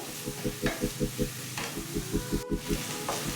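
Onions frying in oil over a medium flame: a soft, steady sizzle under a rhythmic series of low thumps and clicks from a pan, fairly quiet, with no talking.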